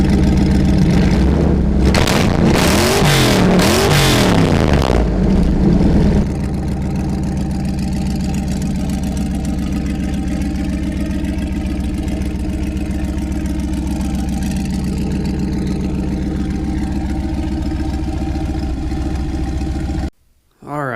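A Land Cruiser bogger build revs hard a few times, then settles into a long steady idle, loud and near, before cutting off abruptly at the end.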